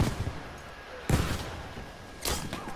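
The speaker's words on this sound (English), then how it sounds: "Oh, I've been sniped." A sniper shot in the Battlefield V Firestorm game: two sharp, booming cracks about a second apart, each fading quickly, with quiet between them and faint voices.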